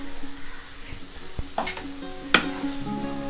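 Egg and grated radish sizzle steadily in a hot pan while a spoon stirs and scrapes, with a few sharp metallic clinks against the pan, close and without talk.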